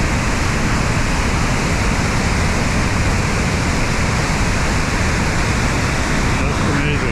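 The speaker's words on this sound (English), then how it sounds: "More powerful water here. Amazing. The power of this water." Powerful rushing water pours near Nevada Fall in Yosemite, a loud, steady broadband roar that fills the whole stretch with no break and no voices over it.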